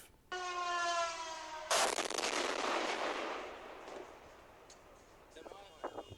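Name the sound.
drone strike explosions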